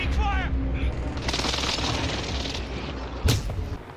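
Gunfire in Call of Duty Warzone: a dense, loud, continuous rattle of shots runs through the whole stretch, with a sharper burst near the end and brief shouting early on.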